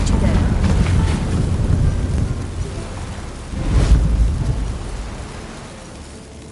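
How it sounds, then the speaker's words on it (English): Steady heavy rain hisses through a Witcher 3 storm, and a deep roll of thunder rumbles up in the middle before fading back into the downpour. "It's raining."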